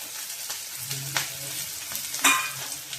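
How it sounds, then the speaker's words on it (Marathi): Green chili and onion sizzle steadily in hot oil for a dry spinach bhaji, close and soft. A utensil stirs and scrapes the pan a few times. "ओली मिरची आणि कांदा वर घालूया।"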